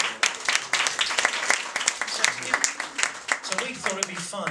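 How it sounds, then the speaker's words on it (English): An audience at a Harpscool event in Brighton claps for a junior national champion harpist, with the applause close, brisk and irregular, and some voices mixed in beneath it. "So give him a big round of applause."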